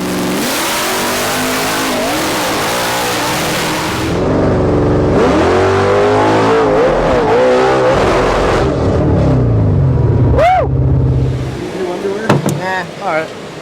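A Ford Mustang test car warms up with a steady idle rumble, then climbs through several sharp revs and throttle blips that rise and fall, loud and close, ending in brief quick bursts.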